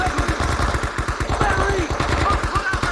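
Rapid machine-gun fire rattles in fast, even bursts in a Vietnam War video game battle, loud and continuous, as soldiers shout over the shooting.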